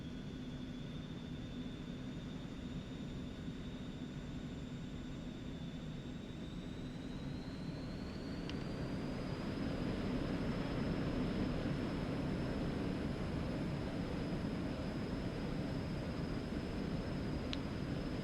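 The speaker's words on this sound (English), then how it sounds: "Do a rolling takeoff here" Aerobask Eclipse 550 light jet in the X-Plane 11 flight simulator on a rolling takeoff from Denver International, a steady broadband engine roar with a thin high whine that rises in pitch as thrust builds, continuous and loud.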